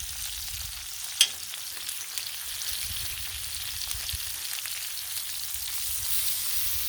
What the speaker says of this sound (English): the little bit of meat on this bacon is sticking, keep it from curling